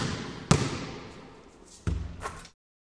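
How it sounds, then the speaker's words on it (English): Basketball bouncing on a hard floor, two distinct loud thumping bounces about a second and a half apart, each followed by a brief echoing decay, then silence. "A basketball sounds like this."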